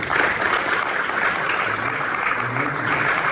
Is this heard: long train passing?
no